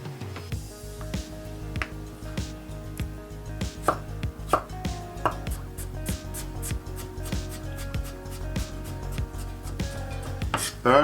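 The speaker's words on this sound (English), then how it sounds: "Perfect, chopping's done." Knife chopping potato and red pepper into small dice on a cutting board, a steady run of crisp close taps with brief pauses, no talking.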